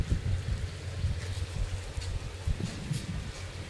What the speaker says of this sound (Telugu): ఇప్పుడు ఆ ట్రాక్టర్ సౌండ్ లేకపోతే ఇంకా ప్రశాంతంగా ఉండేది